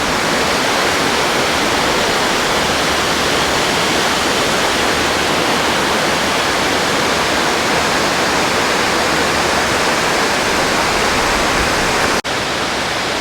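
A steady, loud roar of falling water at Bridal Veil Falls near Vancouver fills the whole clip, a dense unbroken rush with no voices, briefly dipping near the end.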